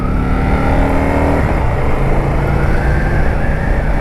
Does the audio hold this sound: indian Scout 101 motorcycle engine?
yes